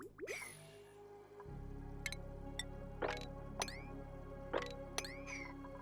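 Water drips in Oxygen Not Included, a series of clear, bright drops landing a second or so apart over a steady low hum of background sound.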